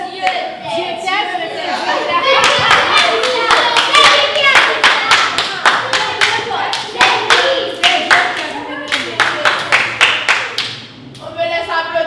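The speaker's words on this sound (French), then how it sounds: "On me laisse applaudir tout seul" Sharp, loud hand claps ring out in a quick irregular series, with a lone adult clapping along among children at a group gathering, bursts of claps separated by brief gaps and chatter audible underneath.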